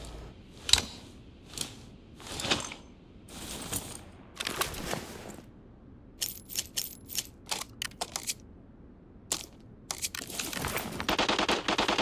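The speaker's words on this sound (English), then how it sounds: "I start hearing gunshots coming from both ends of the tunnel" Gunfire in a tunnel in the Arena Breakout mobile game, scattered sharp cracks and short bursts at irregular intervals, some faint and distant, others closer, ending in a dense rattling volley.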